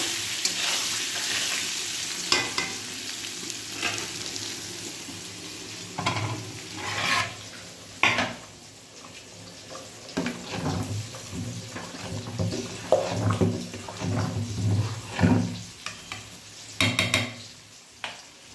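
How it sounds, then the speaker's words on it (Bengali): Sliced potatoes fry in a pan with a splash of water while a spoon stirs them, for a rainy-day khichuri. A steady close sizzle runs throughout, with repeated scraping strokes, a few metallic clinks, and no talking. "আলুটা ভাজা বসিয়ে দিয়েছি, কিছু কিছু জল লাগবে একটু দিয়ে নেড়ে দিলাম"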